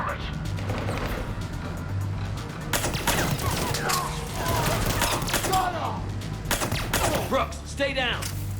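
Gunfire in the video game Mass Effect 3, with loud bursts of shots and impacts through a busy battle soundscape, mixed with voices and a steady low hum.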